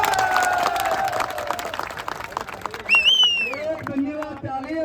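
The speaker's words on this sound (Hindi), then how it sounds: "एक धन्यवाद ताली हमारे विभाग के मुखिया शिक्षा मंत्री जी, चलिए बजा दो।" Brief audience applause of thanks for the state education minister, clapping that rises under a voice and whistle-like tones, fairly loud and mixed with crowd noise.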